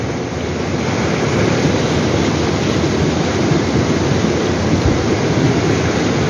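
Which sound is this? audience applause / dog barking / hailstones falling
hailstones falling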